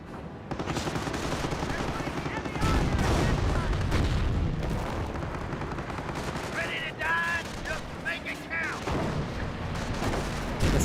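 Rocket barrage in the Company of Heroes video game, a dense rolling volley of explosions and rapid gunfire sustained throughout, with a voice talking over it partway through.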